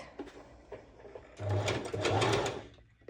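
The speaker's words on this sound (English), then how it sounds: "just do this straight stitch, and you will soon understand why it's just a basting stitch" A sewing machine runs a long straight basting stitch at its highest stitch length, starting with a few soft clicks as the work is positioned, then a short burst of close, rhythmic stitching before stopping.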